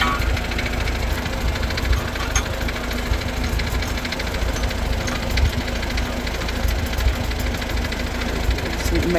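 A Farmall Super C tractor engine runs at a steady idle outdoors, giving a continuous low rumble with a knocking chug that stays constant and fairly loud throughout.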